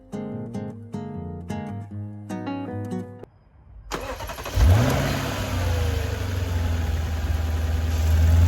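A car engine is started after an engine bay cleaning: musical chimes beep first, then the starter cranks and the engine catches, revs up and settles into a loud, steady idle.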